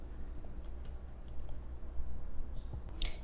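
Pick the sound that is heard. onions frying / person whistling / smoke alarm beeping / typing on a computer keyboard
typing on a computer keyboard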